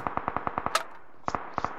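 Rapid automatic gunfire in PUBG Mobile rings out as a steady burst of about ten evenly spaced shots, then a pause and a few more single reports, loud and close with a slight echo.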